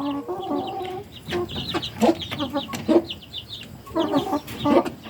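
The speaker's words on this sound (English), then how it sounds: "I have some chicken, free-range chicken" Several free-range chickens, including a big hen, cluck and chatter nearby in irregular bursts, a busy overlapping flock sound with no talking.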